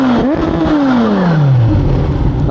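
A 2024 Kawasaki ZH2 supercharged motorcycle rated at 197 hp revs hard and loud up close, its engine pitch rising sharply, then dropping in one long steady fall across a couple of seconds.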